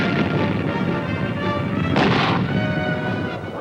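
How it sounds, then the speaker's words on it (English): Mortar rounds burst during a Vietnam War hill assault by the 4th Infantry, heard as a continuous loud rumbling barrage with one sharper crack near the middle, no speech over it. "And mortar rounds."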